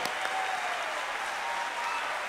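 A concert audience at a children's show of Swan Lake breaks into continuous applause, a thick even wash of clapping from a large crowd, steady and unbroken for the whole stretch.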